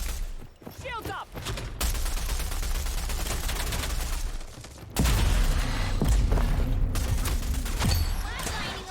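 Shotgun fire in the Rogue Company shooter game, dense bursts of sharp blasts over a loud rumbling barrage, shifting in intensity, with a voice speaking over it.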